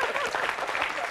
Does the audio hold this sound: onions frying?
no